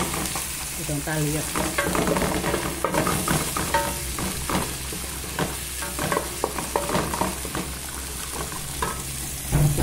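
Onion and pimenta de cheiro sautéing to season beans with vegetables, a continuous loud sizzle with frequent stirring scrapes throughout, and someone speaking briefly over the frying.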